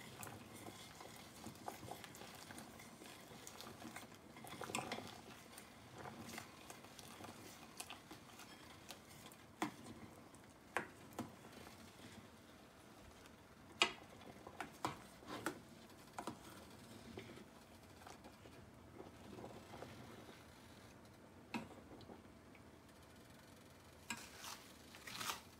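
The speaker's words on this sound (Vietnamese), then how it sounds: "các bạn vừa chế vừa quậy cũng chế từ từ ha" A spoon stirs coconut milk and starch in a pot for a sweet white bean dessert, with soft scraping and irregular light knocks against the pot over a faint simmer, no talk.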